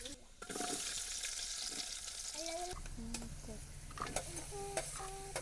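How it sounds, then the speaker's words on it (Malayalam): Garlic hits hot oil in a pan, giving a loud burst of sizzling that settles into steady frying hiss, with stirring clinks and faint tonal voice or music sounds over it. "എണ്ണ ഒഴിച്ച് കൊടുക്കുന്നുണ്ട് വെളുത്തുള്ളി ഇട്ട് കൊടുത്തു"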